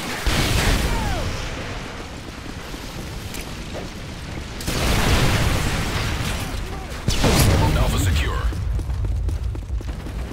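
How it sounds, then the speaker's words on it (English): Stun grenade blasts in Call of Duty Modern Warfare 3 multiplayer, with two loud, broad bursts several seconds apart over continuous battle noise and game voices. "Tossing stun grenade!"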